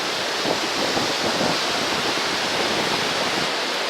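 Niagara Falls roars as a dense, steady wash of falling water, loud and unbroken with no voices.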